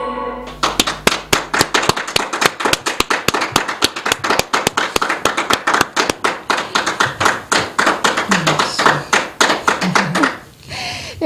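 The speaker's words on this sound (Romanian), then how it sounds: "Acum vă las să aplaudați" Audience applause at a Romanian folk music show, a dense run of sharp handclaps from a crowd, loud and steady for about ten seconds before tapering off near the end.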